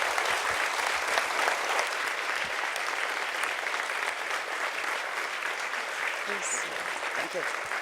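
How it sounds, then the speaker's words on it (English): An audience at a human rights conference claps for a government minister, steady sustained applause filling the room at moderate volume with a few faint voices underneath. "I would like to ask for a warm round of applause for"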